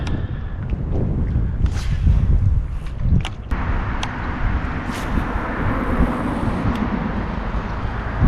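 Wind buffeting a microphone outdoors during a fishing trip, a heavy continuous low rumble and roar with gusty swells and a few faint knocks.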